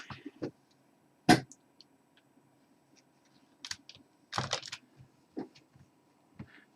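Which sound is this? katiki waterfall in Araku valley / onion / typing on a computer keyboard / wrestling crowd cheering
typing on a computer keyboard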